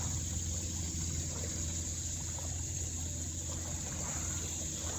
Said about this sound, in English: We got some water kicking up behind us.